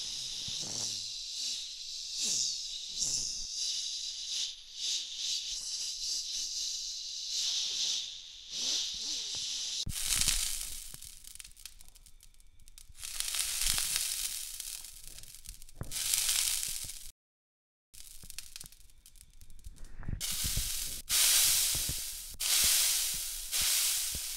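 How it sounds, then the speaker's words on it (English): A soldering iron melts and smooths the plastic of a figure while sculpting muscles, making faint hissing and scratchy rubbing sounds in irregular strokes, close up, with a short silent gap. "with this soldering iron, I will smooth some things out, sculpt all the muscles"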